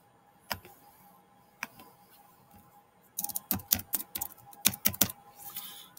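Keys tapped on a handheld psychrometer calculator to enter a wet-bulb reading, a couple of isolated clicks followed by a quick burst of close, crisp presses in an uneven rhythm, no voices.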